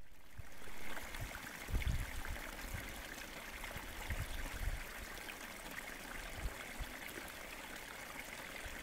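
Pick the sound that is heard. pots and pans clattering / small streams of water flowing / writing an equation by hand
small streams of water flowing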